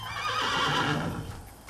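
A horse neighs in the Assassin's Creed video game, a loud whinny with wavering harmonic pitch that holds steady for about a second and then fades out.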